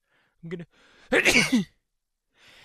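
A single sharp sneeze bursts out during a live gameplay session of Mega Man Battle Network 5, loud and close, following a brief spoken phrase, with quiet room noise before and after.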